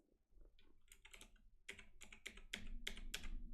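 Rapid bursts of typing on a computer keyboard, a run of crisp clustered keystrokes that speed up and grow louder toward the end, heard alone and close up.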